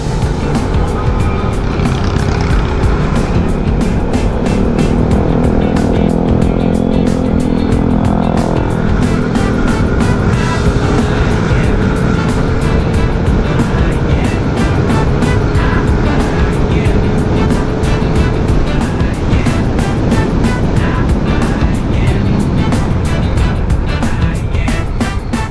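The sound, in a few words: Honda Click i125 scooter riding with CVT tune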